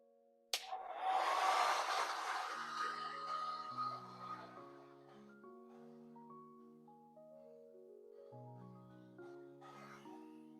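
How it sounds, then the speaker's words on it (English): A hair dryer blasts warm air into a pair of shoes, a loud rushing whoosh early on that fades beneath steady melodic background music. "let's get to blow drying my shoes."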